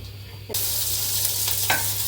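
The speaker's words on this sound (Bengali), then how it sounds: "পোয়া পিঠা ভাজা শুরু করে দিছি" Poya pitha rice cakes fry in hot oil, a sudden loud, steady sizzle bursting in after a quiet moment, with light stirring scrapes and a low hum underneath.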